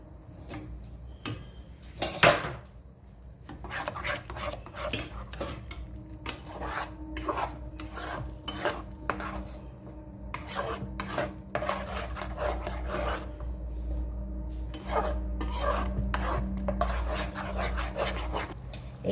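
Spinach for palak paneer is stir-fried in a pan, with a spatula scraping and rubbing in quick, irregular strokes, close by and fairly quiet, no voices.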